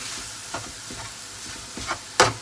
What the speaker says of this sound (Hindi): लैम का कीमा हमने आधा किलो लिया है, तो वो इसमें शामिल कर देते हैं और इसे भी फ्राई होने देते हैं इसी मसाले के साथ